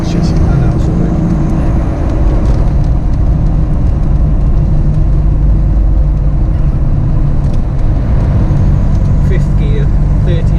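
A Ford Raptor engine fitted with a Fourby4x4 twin port performance manifold pulls in fifth gear from about 40 mph, a steady loud low rumble with road and wind noise and talk over it.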